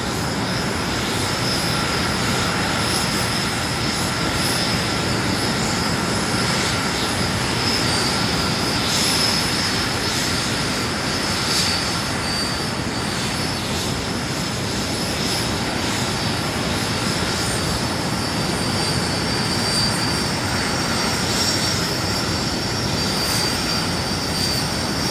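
Canadian Forces Snowbirds nine-ship aerobatic team aircraft at the Gatineau-Ottawa airshow, engines producing a loud, continuous broadband roar that holds steady throughout with no breaks.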